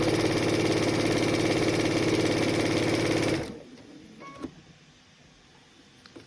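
A sewing machine stitches a seam straight down quilting fabric for a Dresden daisy table topper, using a quarter-inch foot; the steady mechanical whir runs loud and close for about three seconds, then stops, leaving quiet handling noises.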